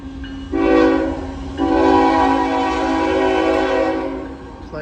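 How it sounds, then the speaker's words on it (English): A Norfolk Southern freight train crossing a diamond at Marion sounds its horn in two loud sustained blasts, a short one and then a long one, over the rumble of the passing train. "A Norfolk Southern coming up."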